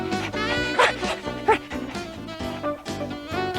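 A cartoon dog in a Garfield Thanksgiving special lets out a few short, yappy barks and yips over a busy music score, with voice-like sounds mixed in.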